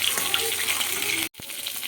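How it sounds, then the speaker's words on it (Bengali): Bhola fish frying in hot oil, a dense, steady sizzle with bubbling crackle that cuts out for a split second near the end and then resumes. "সবকটা মাছ আমি এভাবে ভেজে নেব।"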